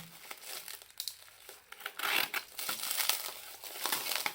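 Crinkly plastic blister packaging of a Hot Wheels die-cast toy car (a Cobra) crackles and tears open close by in a run of short scrunching bursts, with no talking.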